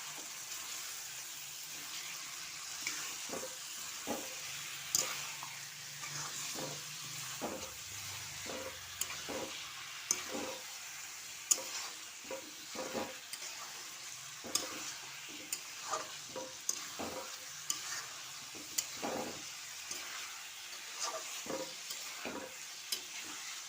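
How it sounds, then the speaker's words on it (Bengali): Chicken stir-fried with spices in a pan, a soft sizzle running under repeated scraping strokes of a spatula at a steady, unhurried rhythm, close and moderately quiet, with no talking. "দিয়ে এখন আমি মাংসটা মশলার সঙ্গে আবার ভালো করে একটু কষিয়ে নেব।"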